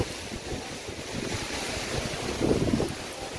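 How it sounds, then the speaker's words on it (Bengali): Strong wind roars steadily across the microphone at an ashram in Rishikesh, with a gusty, buffeting rumble, swelling louder near the end. "ঝোড়ো হাওয়া দেওয়ার মতন হাওয়া দিচ্ছে"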